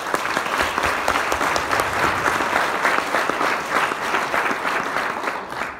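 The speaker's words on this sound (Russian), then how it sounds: "аплодисменты Лене Рябовой." A seated audience at a business event claps together in a sustained, dense round of applause that stays loud and even for about six seconds before tapering slightly at the end.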